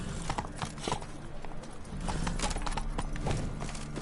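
In a video game, a horse's hooves clip-clop steadily at a walking pace, with a faint whinny and ambient game sounds underneath.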